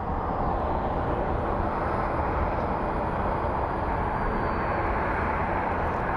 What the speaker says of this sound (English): We'll start with the Delta A321, potentially going to Minneapolis.